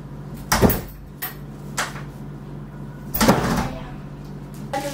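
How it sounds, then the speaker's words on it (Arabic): In a home, a door is pushed shut, making a few sharp knocks and bangs with a louder thud near the end, over a steady low hum and brief faint voices. "الباب مفتوح هقفله"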